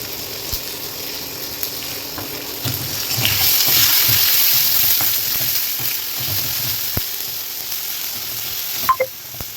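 Spices and turmeric frying in hot tempering oil for khichuri, a steady close sizzle with soft stirring clicks and a brief sharp tap near the end.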